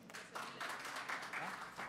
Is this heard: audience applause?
yes